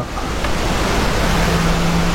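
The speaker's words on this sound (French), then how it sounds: "La Dolère, donc la rivière qui coule dans la vallée de Masevaux" The Doller river flows through the Masevaux valley in Alsace as a steady, close rush of water, a broad continuous wash with no break and no voices.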